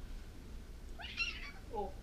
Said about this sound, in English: she gave us like a little meow when I touched her